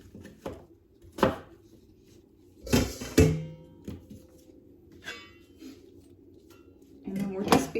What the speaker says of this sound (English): we're going to debone it and cut it into about at least 1 to 2 inch cubes